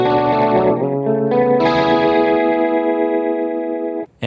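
Guitar run through an Axe-Fx II rotary effect at rate 8, a loud, close chord with a rapid, intense warbling swirl, struck a few times and then left ringing before cutting off.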